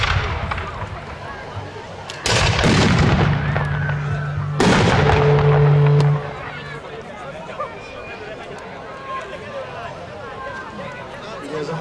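Historical firearms fired during a fortress-day battle reenactment: two loud, sharp shots a couple of seconds apart, each with a lingering echo, over steady outdoor crowd murmur.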